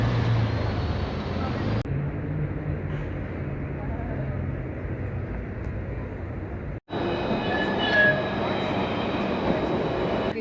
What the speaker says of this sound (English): And don't forget the train.